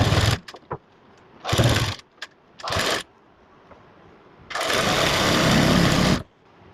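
A sewing machine stitches the hem of a palazzo with a half-inch margin, whirring loudly in three short bursts and then one long run of nearly two seconds, separated by quiet pauses.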